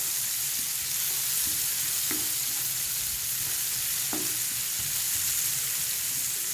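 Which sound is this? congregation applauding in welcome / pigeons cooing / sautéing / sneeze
sautéing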